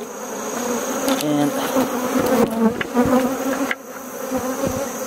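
Honeybees buzz loudly and steadily around an open beehive during winter preparation with brood box rotation, a dense close drone of many wings with a brief spoken word.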